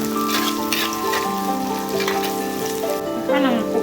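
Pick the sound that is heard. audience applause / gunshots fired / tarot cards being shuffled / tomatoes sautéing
tomatoes sautéing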